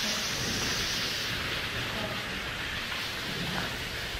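Steady heavy rain with a low rumble of thunder at an abandoned prison, loud, constant and broadband throughout with no clear speech.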